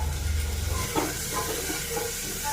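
Chopped onion, ginger and green chilli frying in a hot pan, a steady soft sizzle with a brief clink near the middle and no talk.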